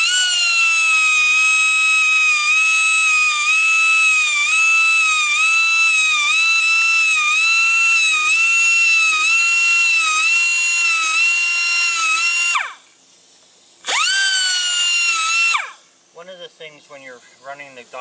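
A die grinder sharpens the teeth of a Woodmizer LT15 sawmill band blade with a loud, steady, high whine held for long stretches. It cuts out briefly and then resumes before talking takes over at the end.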